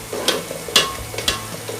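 Onions being stirred and fried in a pot for chicken biryani: three distinct scraping stir strokes over a soft, close sizzle, with no talking.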